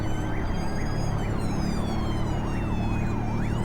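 A wailing emergency siren in the driving game Euro Truck Simulator 2 rises and falls in a steady repeating cycle over a continuous vehicle rumble, with no speech.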